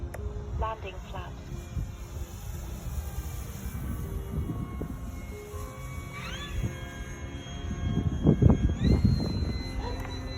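An E-Flite Draco RC airplane flies in high winds, its electric motor whine swelling and shifting pitch at moderate distance over a steady rumble of wind buffeting.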